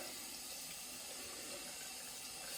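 Steady water running from a tap to wet shaving brushes with 24mm synthetic knots, a continuous even hiss and splash that holds close and constant with no talking.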